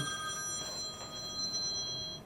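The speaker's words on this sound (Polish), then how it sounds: "Poczeka telefon." A telephone rings indoors in a home kitchen, its electronic tones sounding steadily at moderate volume over faint room noise.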